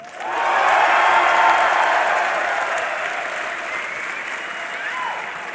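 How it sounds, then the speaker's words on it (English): A live esports crowd at DreamHack during a League of Legends finals between CLG.EU and Fnatic swells into loud cheering and applause, then holds a sustained roar that eases slightly toward the end. "I want to hear a cheer if you think Fnatic is going to be grand final winners"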